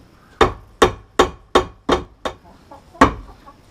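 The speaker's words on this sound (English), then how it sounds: "I think we might just keep hammering this pin for a while." Seven sharp metal hammer blows strike a seized pin on an outboard motor's steering bracket tilt tube, landing in a steady rhythm of about two per second before a pause and one final hit, loud and close.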